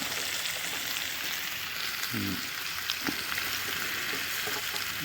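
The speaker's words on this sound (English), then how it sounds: "put the liver on top of it and just kind of let it simmer and cook up" Roadkill liver laid over onions in a pan, frying with a dense, steady sizzle and fine crackling throughout, a couple of brief utensil knocks, no talking.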